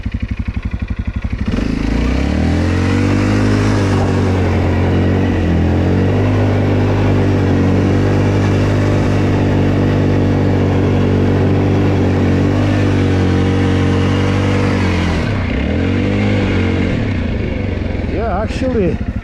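A 2023 Segway Snarler AT5 L ATV is driven through deep snow during a drift, its engine revving loudly and steadily, with pitch rising and falling as the throttle changes.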